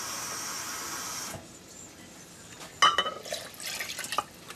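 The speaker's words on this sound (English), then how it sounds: "and then we're going to put in the 2nd cup of water" Water splashes and gurgles as it is poured into a blender with rice, a short irregular burst following a quiet stretch of faint hiss.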